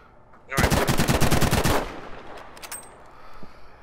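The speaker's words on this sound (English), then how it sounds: "I'm just going to try and fire as fast as I can" Rapid automatic gunfire in the Battlefield V shooting range, a dense burst of loud, fast shots lasting over a second, then fading echoes and quieter game ambience.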